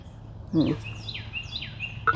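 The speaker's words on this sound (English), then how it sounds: "lots of birds overhead" Several descending whistled bird calls repeat overhead against a steady outdoor background, with a brief low rustle early on.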